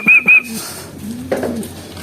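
Racing pigeons call from close by, starting with two short, loud whistled notes, then softer cooing and rustling.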